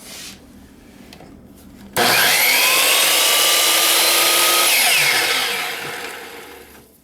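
A wooden dowel for a small train whistle is trimmed on a power saw, starting abruptly after a quiet lead-in. The loud, steady cutting whine runs for several seconds and then fades as the cut finishes.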